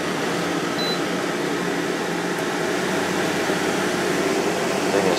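A GE 8,100 BTU window air conditioner runs on high speed, a steady, loud broadband whoosh of blowing air with a constant hum underneath, unchanging throughout and with no talk.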